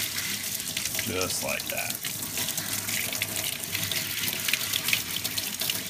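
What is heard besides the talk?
tap water rinsing bullet slices in a sink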